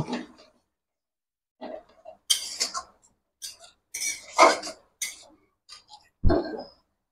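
A spoon scrapes and clanks against a cooking pan while turfing chilli, pepper, turmeric and red chilli powder for a Bengali fish curry, in scattered short bursts separated by quiet gaps, ending with a louder knock.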